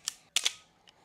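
A camera shutter fires after repair, giving a crisp double click and then a fainter click, close and clear with no voices.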